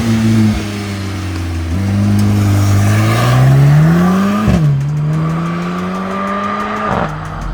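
A Mercedes-AMG GLC 43 launches hard from a race start, its engine roaring loud and close as it revs up through several quick gear changes.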